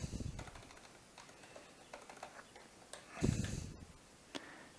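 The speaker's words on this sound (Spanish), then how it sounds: "solamente tienes que escribir aquí ipconfig barra flash" Keys tapped on a computer keyboard in Windows, entering the ipconfig command to flush the DNS cache; quiet, uneven clicks with a louder burst near the end, no talk.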